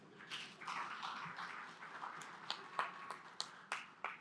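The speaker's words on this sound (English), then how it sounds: "Another round of applause, please." Audience at an opening session gives a round of applause, heard as a faint, scattered patter that thins into a few distinct sharp claps spaced out toward the end.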